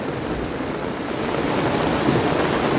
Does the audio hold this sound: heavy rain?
yes